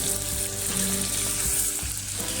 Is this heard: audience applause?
no